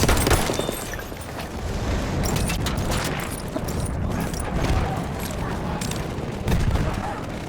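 Machine gun fire in Battlefield 1 on the Zeebrugge map, dense rapid bursts and distant explosions forming a loud, continuous battle din, with in-game voices shouting over it.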